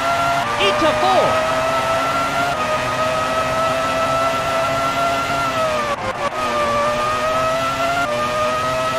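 A Formula 1 race car engine in the PS1 game whines at a high steady pitch, dropping sharply at a gear change partway through and then climbing again, loud and continuous under a commentator's talk.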